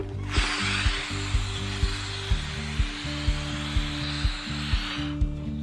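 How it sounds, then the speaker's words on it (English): Air hisses steadily out of a balloon fitted to a CD hovercraft. A broad rushing whoosh lasts about five seconds, and a rhythmic rattling of the CD sliding over the surface runs beneath it. "And then what you want to do is let go of the balloon."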